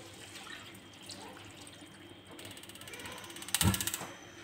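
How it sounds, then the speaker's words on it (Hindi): A gas stove burner being lit in a home kitchen while cooking chicken stock for pulao, heard as a rapid burst of igniter clicks followed by the soft whoosh of the flame catching, near and fairly loud over quiet kitchen background. "और ये मैंने चूल्हा जला लिया है"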